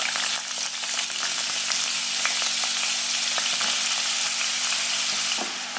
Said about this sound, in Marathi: आता आपण याच्यामध्ये रताळू घालून घेऊया।